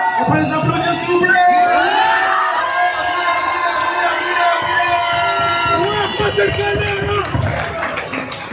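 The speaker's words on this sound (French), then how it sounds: "On peut les applaudir s'il vous plaît." Birthday party guests in a hall clap, whoop and cheer loudly and continuously, with children shouting among the crowd noise throughout.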